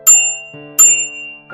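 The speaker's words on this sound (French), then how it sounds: "Et voyez comment la sonnette est bien ergonomiquement placée." Two bright metallic dings from the handlebar bell of a Teslica B3H folding electric bicycle, 2027 model, each striking sharply and ringing out with a lingering tone.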